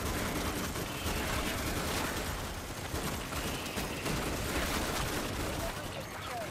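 Video game gunfire, a steady crackling roar of rapid shots that runs through the whole stretch at moderate loudness, with no break or talk.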